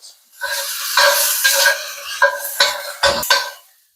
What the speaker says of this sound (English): we're gonna go ahead and add in our garlic and onions